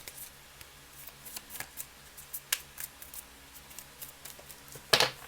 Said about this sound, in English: These are new cards, so it's kind of like hard to shuffle them.